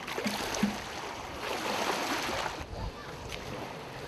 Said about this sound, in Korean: 돌아오는 배들은 갈지자로 춤을 추며 옵니다.